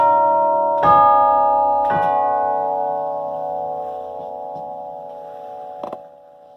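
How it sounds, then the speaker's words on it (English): Pipe organ chimes struck by hammers ring out loud and close, three or four sharp strikes each leaving long, slowly decaying bell-like tones that overlap. "there are hammers that reach and strike each individual chime"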